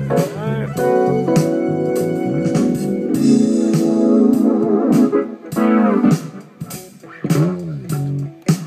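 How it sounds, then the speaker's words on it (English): Amiga synth tune processed with effects and a Moog filter, producing warbling, swooping tones and gurgling sweeps in a lively phrase, loud and alone. "with a few effects and a little bit of a Moog filter"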